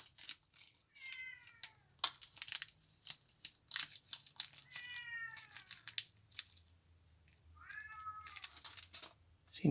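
A kitten meows several times in drawn-out, wavering cries, close by, between sharp snipping and rustling noises.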